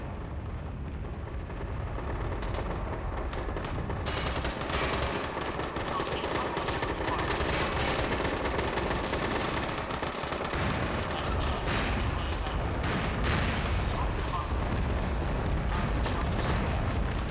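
A bunker is destroyed in the video game MAG amid dense, continuous gunfire and rumbling explosions. The battle noise is loud and unbroken throughout, with scattered sharper blasts standing out.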